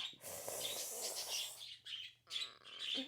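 Pet birds screeching indoors, loud harsh calls in two bursts with a short pause between, close to the listener and with no talking over them.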